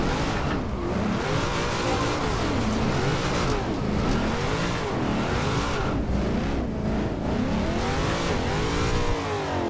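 A Subaru BRZ drift build in Forza Horizon 2 screams through 360 drifts, its engine revving loud and unbroken for the whole stretch with rising and falling pitch and no talking over it.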